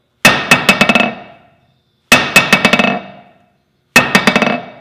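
A heavy steel hammer strikes a steel anvil in three groups, each a loud ringing hit followed by rapid bouncing taps that quicken and fade.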